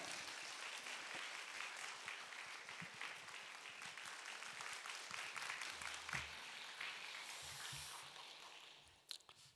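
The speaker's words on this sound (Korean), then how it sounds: "우리 박수로 환영하도록 하겠습니다" A church gathering gives a speaker steady applause. The clapping sounds soft and distant, continues for about nine seconds, then fades out.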